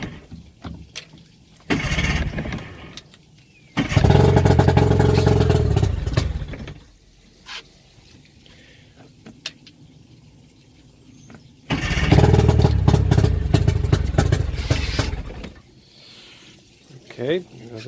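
An outboard boat motor being flushed makes two loud pull-start attempts, each bursting into a few seconds of rough, roaring running before dying. Between them come quieter clatter and handling noises.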